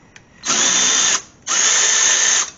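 A Milwaukee power tool whirs in two sustained bursts, each about a second long with a short pause between, while loosening tight bolts on the A/C compressor of a Chevy truck; loud and close, with no talk.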